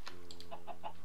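A Minecraft chicken lets out a few soft, quick clucks over a low steady hum from the game's background.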